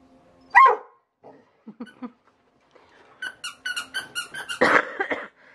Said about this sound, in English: He'll stare back at me, and then he'll bark at me.